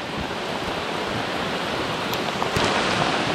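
Heavy rain pours steadily during a thunderstorm on a fishing trip, a loud continuous hiss with a few sharper spatters near the end.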